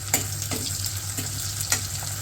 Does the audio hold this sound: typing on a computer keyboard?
no